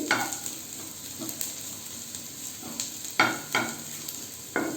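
Chopped garlic frying in a pan for chicken soup, a steady soft sizzle with intermittent clanks and scrapes of a utensil stirring.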